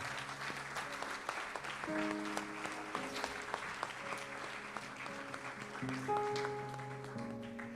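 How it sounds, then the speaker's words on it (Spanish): A church congregation applauds loudly for the Lord during a Spanish-language sermon, the steady clapping running throughout over sustained organ or keyboard chords. "¿Por qué no le da un aplauso fuerte al Señor?"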